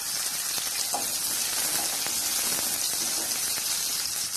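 Chopped garlic and small shallots fry in oil in a pan, giving a steady, close sizzling hiss with faint crackles throughout.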